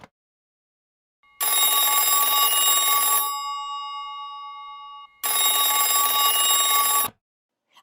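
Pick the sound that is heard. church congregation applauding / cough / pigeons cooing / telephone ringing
telephone ringing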